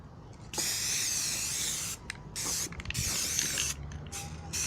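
Aerosol spray cans laying a light waterproofing base coat around shoes, in several long hissing bursts separated by short pauses, with faint clicks and handling noise between sprays.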